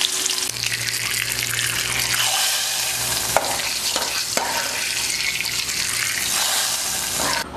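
A tempering of hot oil and spices is poured into toor dal sambar, giving a steady close sizzle and bubbling hiss with a few sharp crackles.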